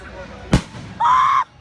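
A single sharp firework bang goes off, followed moments later by a short, high vocal exclamation.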